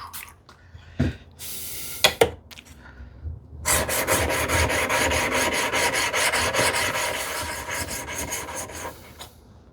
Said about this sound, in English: This is where I will use these DMT plates to just check whether it's still flat enough or needs a little bit more.